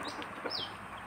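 Village chickens cluck softly in a brief burst of short calls, close by and alone.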